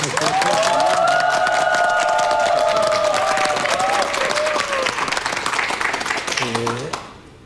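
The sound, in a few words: audience applause welcoming a lecturer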